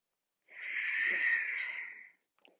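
One deep, slow breath during a yoga practice in the Texas Hill Country, a single close airy exhale lasting about a second and a half, followed by a faint rustle.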